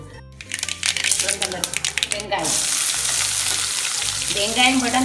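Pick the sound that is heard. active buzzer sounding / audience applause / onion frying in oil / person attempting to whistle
onion frying in oil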